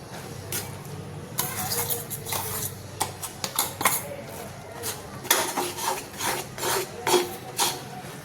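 Ground peanuts stirred into hot sugar syrup in a pot with a spoon for a peanut sweet, giving repeated scraping and rubbing strokes with light metallic clinks, close and fairly steady, with no talking.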